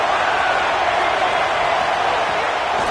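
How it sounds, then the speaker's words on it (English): A home crowd at a college football game roars loudly and steadily, a dense wall of cheering and noise sustained throughout with no breaks. "how nice is it to have the home crowd going absolutely bananas?"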